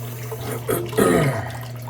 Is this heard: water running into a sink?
yes